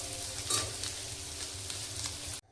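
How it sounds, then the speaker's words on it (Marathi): Oil sizzles and crackles steadily in a pan as paneer fries lightly, with a brief louder spatter, then the sound cuts off abruptly at the end. "आता पनीर हे हलकसं फ्राय करून झालेलं आहे"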